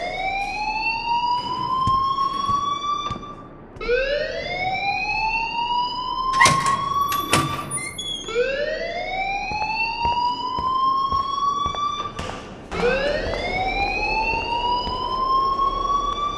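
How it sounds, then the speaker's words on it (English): A rising and falling alarm siren from the Life is Strange video game wails in repeated sweeping cycles, loud and continuous, with brief sharp noises breaking in between sweeps. "please turn off that alarm since that's your job"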